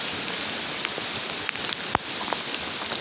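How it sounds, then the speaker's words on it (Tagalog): Non-stop heavy rain hisses in a dense, steady wash, with a few sharper drops and splashes standing out near the listener, and no voices. "non-stop pa rin yung ulan"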